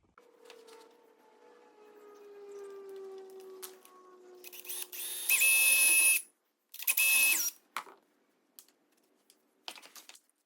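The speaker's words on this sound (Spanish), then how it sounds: "le vamos a usar la broca para hacerle un canalito para que nuestro tornillo no se vaya para los lados" A drill bit cuts a pilot groove into a TimberTech railing during installation: a near whine rises in short, loud bursts of a few seconds each, separated by pauses, after a quieter humming start.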